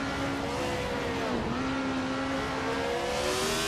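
Engine of a 1971 BRM P160 race car in a racing video game, a steady sustained drone with a brief pitch dip mid-way before settling again, continuous and fairly loud with no talking.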